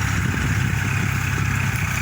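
An L4018 tractor engine runs steadily at close range, a loud, even low rumble with a constant mechanical drone and no change in pace, with no voices over it.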